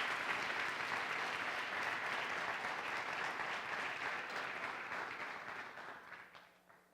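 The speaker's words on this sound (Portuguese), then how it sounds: "E essa família quer dar a você uma forte e calorosa salva de palmas." A church congregation gives a long, warm round of applause, dense steady clapping up close that tapers off and fades out toward the end, with no talking over it.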